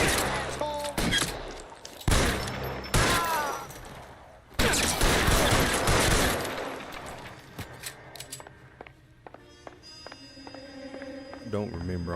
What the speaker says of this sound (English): Don't remember all this shooting going on